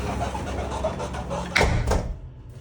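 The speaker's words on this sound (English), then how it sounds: "Let me close this door." An indoor door in a building swings shut with a single firm thud near the end, after a stretch of low room noise and faint shuffling, close and moderately loud.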